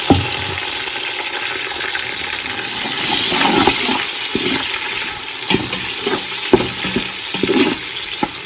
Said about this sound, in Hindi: लहसुन भी भून के अभी इसमें टमाटर ऐड करते हैं